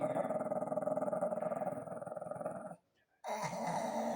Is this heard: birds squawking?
no